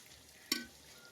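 Ginger-garlic paste and masala powder frying in a pan, heard as a sudden brief sizzling burst that rises sharply and fades over a low background hiss, with no talking.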